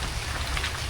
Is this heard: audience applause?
no